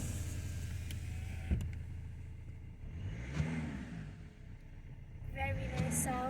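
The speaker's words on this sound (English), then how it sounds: "Let's put the window down." An electric power window lowers on a 2016 Mercedes C220 CDI AMG Line estate with its diesel engine idling, giving a whirring motor sound over the low rumble while people talk nearby.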